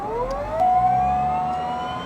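An airliner jet engine starts up with the igniter on, a rising whine that climbs and settles into a steady high tone, fairly loud and close with no talking.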